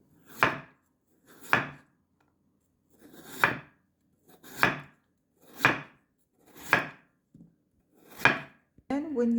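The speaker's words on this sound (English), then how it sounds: "we need to cut it as thin as possible" Knife slicing raw potatoes into thin slices on a cutting board, eight distinct crisp chops spaced about a second apart, close and clear, with a brief clatter at the end.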